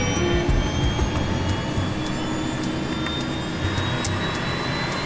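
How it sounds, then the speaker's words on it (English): Jet engines on an aircraft roar steadily while being throttled up during a test run, heard from inside the cockpit as a loud, continuous, unbroken drone. "And he records the sound of the engines from inside the cockpit."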